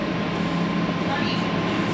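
Riding aboard an ION light rail train on route 301, a steady close interior rumble and hum of the moving car fills the brief moment, even and continuous with a faint tonal whine.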